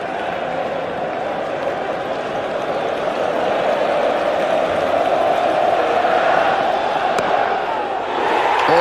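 A large cricket crowd at The Oval during an England versus Australia Ashes Test roars continuously and loudly, a dense sustained cheer swelling slightly toward the end.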